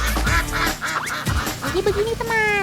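Ducks quack in short repeated nasal calls, loud and close, mixed in with someone talking over them.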